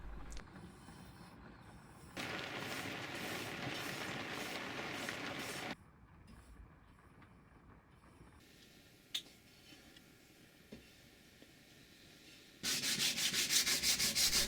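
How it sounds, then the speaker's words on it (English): Sanding a black-painted homemade wheel for a DIY reverse trike to smooth out brush marks: steady, close abrasive rubbing in long sustained passes, with quieter stretches between louder bouts and no talk. "And let's sand it again, just to take out the irregularities again."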